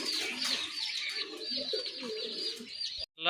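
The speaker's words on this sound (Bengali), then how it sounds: "এটা অরিজিনালি দেশি কবুতর একদম পিওর হোয়াইট" Pure white native desi pigeons coo steadily and softly at close range, with a few chirps mixed in and a brief rustle near the end.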